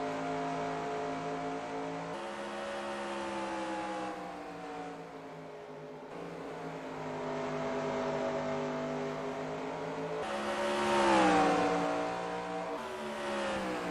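Stock cars racing at Bristol, engines droning and revving in sustained rising and falling tones, one car nudging another close behind, with the pitch swelling toward the end as they battle.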